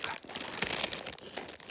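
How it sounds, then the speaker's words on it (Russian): Crinkly plastic packaging of chocolate rolls being unwrapped up close, with continuous rustling and crackling bursts and a few sharper tearing peaks, loud and alone without speech. "Распаковка."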